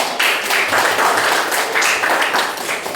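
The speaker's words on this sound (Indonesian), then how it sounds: "tepuk tangan lagi untuk kelompok ini" Students in a classroom clap for a group of classmates, a short, steady patter of many hands that fills the room for a few seconds.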